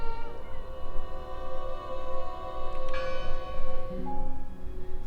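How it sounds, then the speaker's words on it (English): A bell tolls in the video game Draugen, ringing out with long sustained metallic tones that layer and overlap over a low rumbling ambient background, with no talking. "I heard the bell."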